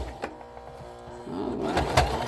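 A sewing machine back stitching a zipper onto a pillow, its needle running in a fast, steady mechanical patter that starts partway through and continues near and moderately loud, with faint room sounds around it.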